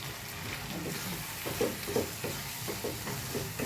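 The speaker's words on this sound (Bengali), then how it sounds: "মশলাটাকে আমি একটু কষিয়ে নেব" Spice paste being stirred and fried in a pan for a chicken curry with yogurt, a soft steady sizzle with irregular scraping stirs, fairly faint and close, no talk.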